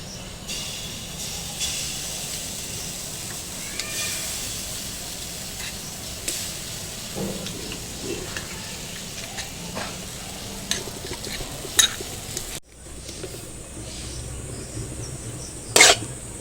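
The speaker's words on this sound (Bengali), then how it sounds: "এবার আমি কড়াইতে দিয়ে দিচ্ছি তালের পিউরি।" Palm fruit puree cooking in a kadai, a continuous soft bubbling sizzle with intermittent scrapes of stirring and a few sharper clinks near the end.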